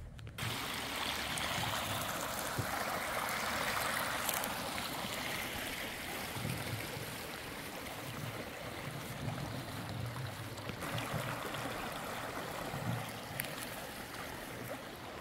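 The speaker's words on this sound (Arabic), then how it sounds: "هذا شلال سيمن فول، شوفونه،" Simmenfälle waterfall in Lenk, Switzerland, a steady broadband rush of falling water that stays loud and continuous throughout, with no voices.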